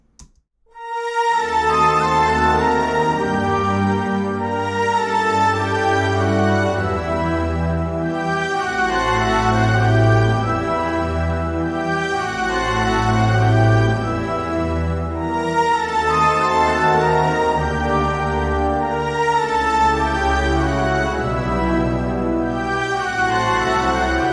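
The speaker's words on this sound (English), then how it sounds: "together, the woodwinds, brass, and strings sound like this" Full orchestra of woodwinds, brass and strings playing a warm, sustained passage with swelling chords and a moving melody, rich and loud.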